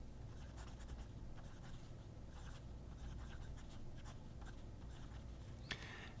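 A fountain pen with a medium No. 8 steel nib scratches softly across paper in short, irregular strokes, faint and close, over a low steady background hum.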